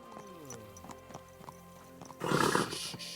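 Horse in the medieval video game Kingdom Come: Deliverance 2, with steady clip-clop hoofbeats followed by a loud, close neigh near the end.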